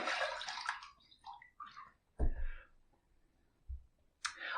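Running water rinsing a Phoenix Shaving Quantum razor, a close hiss of tap water with the blade passed under it, broken by brief clicks and a knock of the razor against the sink.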